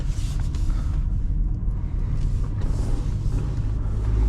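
2023 Toyota Highlander XSE taking a tight turn: a steady low road and engine rumble with faint tire and cabin noise, heard from inside with no talk.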